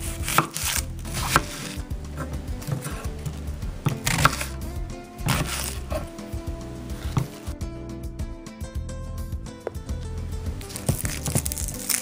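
Knife chopping a red onion into quarters on a cutting board, a steady run of firm, close thuds with a few short pauses and quieter scraping between strokes.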